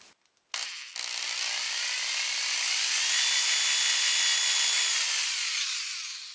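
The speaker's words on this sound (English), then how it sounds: "I'm going to go ahead and drill some holes." A power drill drilling holes in a guitar head plate revs up and runs steadily for several seconds, a loud whirring grind that tapers off at the end after a couple of short starts.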